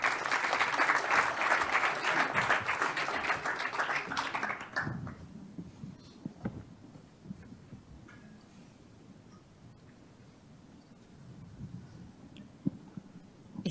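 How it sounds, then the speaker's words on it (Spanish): Audience at a Latin American biotech venture capital panel forum applauding, a dense burst of clapping for about five seconds that quickly fades into quiet room noise and small shuffles. "Les damos un gran aplauso."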